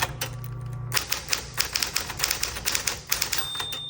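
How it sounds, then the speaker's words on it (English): A 1960s Smith Corona Coronet manual typewriter types in a quick run of sharp, close keystrokes, and its margin bell rings clearly near the end. "That bell that you hear is going to ding every time you come within a few characters of your margin"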